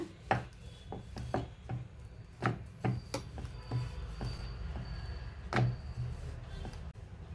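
Stuffed cauliflower paratha dough being rolled out with a rolling pin on a board: soft, irregular thumps and rubbing strokes repeating at a steady working pace, close and fairly quiet, no talking.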